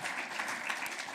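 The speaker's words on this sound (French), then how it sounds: "on peut les applaudir" Brief burst of audience applause at a French round-table conference on the circular economy in building climate engineering, dense steady clapping from a seated crowd.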